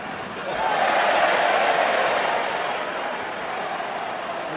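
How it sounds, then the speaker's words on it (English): A rugby stadium crowd at the 2010 Wales versus South Africa test match lets out a broad, sustained roar that swells quickly, holds and then slowly eases off. "Well, the crowd enjoyed it, or at least the Welsh section of the crowd enjoyed it."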